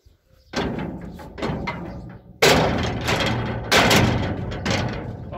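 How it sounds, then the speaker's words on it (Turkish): Doors at a cattle farm being pulled shut, a series of heavy thuds and sliding rattles, with several loud bangs close by over a few seconds. "Kapansın kapılar Ali dayım."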